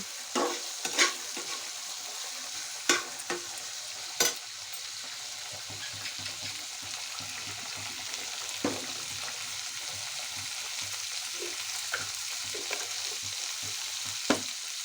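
Fish frying in a pan for a home-cooked Bengali lunch, a steady hiss of oil running throughout with occasional sharp clicks and taps of a utensil against the pan, no talking.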